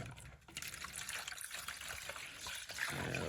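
Lukewarm water is poured for baby pigeons, trickling quietly and steadily, a faint liquid splashing that continues for a few seconds.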